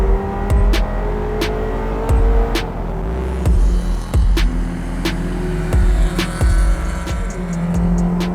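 A car laps the Calabogie race track, its engine droning steadily with rising and falling revs through gear changes and corners, loud and close throughout with no talking.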